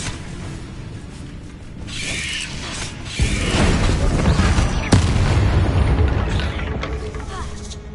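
Rumbling magical blasts from the Confringo spell in Hogwarts Legacy, with a sharp thump near the middle and another heavy boom shortly after, over a swelling low roar of combat.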